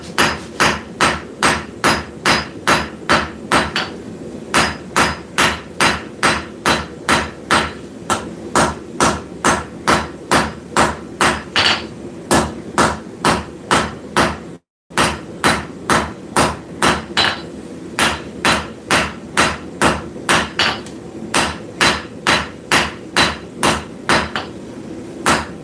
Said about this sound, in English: I'm going to switch hammers. I'm going to go to the straight peen,